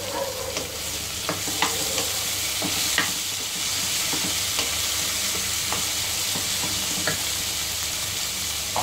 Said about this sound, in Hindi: दो बड़े बड़े कटे हुए टमाटर डाल देंगे।